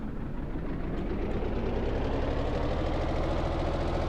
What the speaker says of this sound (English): let's see what happens when we apply throttle here. We're going to just apply more and more throttle.